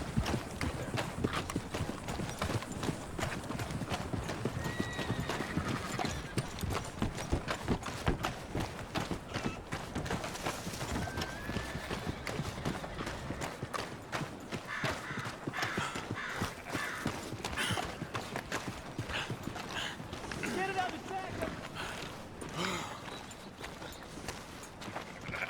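A horse gallops in Red Dead Redemption 2, its clip-clop hooves pounding in a fast, continuous rhythm over rustling outdoor game ambience, with faint calls drifting in now and then.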